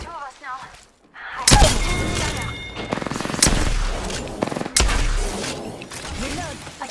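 Gunfire in Apex Legends, a rapid mix of bursts and single shots with thumping impacts, loud and close, going on for several seconds after a brief quiet start, with game voice lines mixed in.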